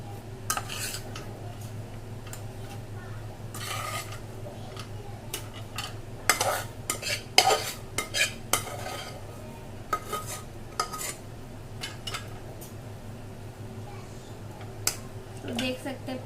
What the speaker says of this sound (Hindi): तो मसाले को हम एक थाली में निकाल लेते हैं।